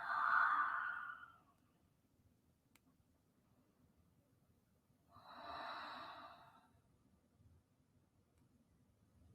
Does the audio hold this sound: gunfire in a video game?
no